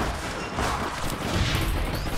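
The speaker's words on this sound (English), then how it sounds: "Whoa, get shot from behind." Dense, continuous gunfire from APB Reloaded, an online shooter video game, a steady wash of rapid shots and crackle with no talking.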